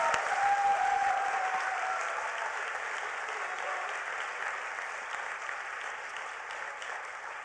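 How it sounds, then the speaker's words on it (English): Warm, sustained audience applause fills a large hall at an awards ceremony at the United Nations, steady and dense throughout and tapering slightly toward the end. "Help me give a warm round of applause for Rutopia."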